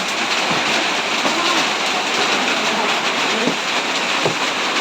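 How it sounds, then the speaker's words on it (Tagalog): Heavy rain pours in a dense, steady roar, heard from indoors, loud and constant throughout, with no voices over it. "Ang lakas ng ulan"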